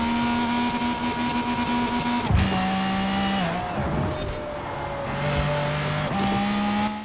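Cars race in Forza Horizon 4: a loud, continuous engine whine with pitch drops at each gear shift, layered engines from surrounding traffic, with no voices.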